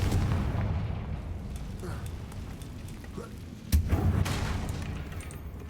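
A Confringo fire-spell explosion in the Hogwarts Legacy video game goes off as a deep, rumbling boom over a dense, continuous low roar, with a sharper, louder blast bursting out near the end.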